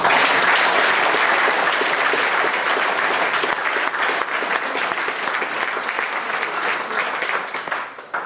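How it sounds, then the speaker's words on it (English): A crowd applauds steadily, dense clapping holding at full strength for several seconds before tapering slightly at the end. "So, can I have a big round of applause?"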